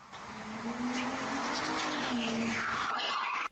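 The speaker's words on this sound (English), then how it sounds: "He turns around at the sound of a screeching car speeding right into him." A car speeds past with a rising engine roar, and its tires screech loudly. The sound stays steady and then cuts off abruptly.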